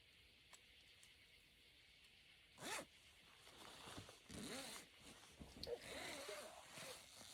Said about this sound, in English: Okay, so you zip it up